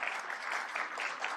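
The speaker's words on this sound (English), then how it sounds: "Go ahead, clap. You deserve it." A school-event audience applauds a new county school supervisor, a steady dense wash of clapping heard from a moderate distance at low level, with no talking over it.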